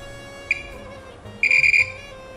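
A multimeter's continuity tester gives a short beep and then a longer steady beep while probing a USB-C connector contact during repair of an Atem Mini Pro, close and clear over quiet background.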